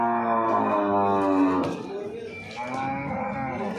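Jafra buffalo at the Erragadda buffalo market gives a long, loud, close moo that trails off, with a second, quieter lowing call and market voices following.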